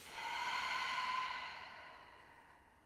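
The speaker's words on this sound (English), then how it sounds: "Lots of breath." A single slow, deep breath during a yoga session, a soft airy exhale that swells and then fades out gently, close and quiet, with no talking.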